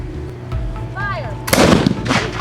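Reenactors fire a volley of historic guns on South Bass Island at Put-in-Bay, Ohio: a loud, ragged burst of overlapping gunshots at about a second and a half, preceded by outdoor bustle.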